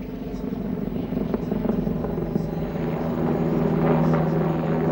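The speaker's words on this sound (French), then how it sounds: "Cet hélicoptère franco-allemand a pratiquement achevé son développement" A Franco-German military helicopter in late development thrums steadily with a continuous rotor and engine drone, its rhythmic chopping pulses holding close and fairly loud throughout.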